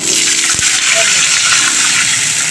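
Water pours into a hot pan of oil while making Bengali hilsa fish curry, a loud, continuous hissing gush and sizzle that fills the whole moment without pause.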